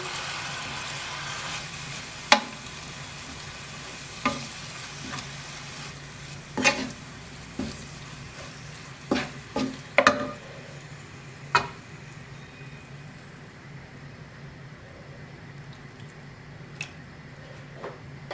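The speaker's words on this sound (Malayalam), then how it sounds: "അപ്പോൾ നമുക്ക് കുറച്ച് കുറച്ചായിട്ട് ചേർത്തിട്ട് ഇളക്കി നോക്കാം." A spoon stirs melted jaggery syrup into Ila Ada dough, quiet sticky squishing under a low background hiss, broken by a series of sharp knocks against the vessel.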